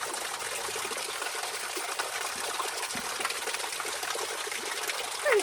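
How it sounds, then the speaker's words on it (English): A tiny waterfall trickles and splashes in a redwood forest, a steady close rush of running water with no talk over it. "It's a mini waterfall, guys."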